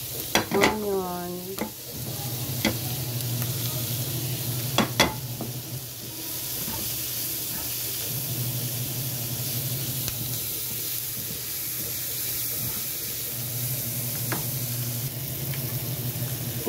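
Onion sautéing in butter on a hot sizzling plate for spicy tofu sisig, with a steady close sizzle, a few clinks of utensil against metal early on, and light stirring throughout, no talking.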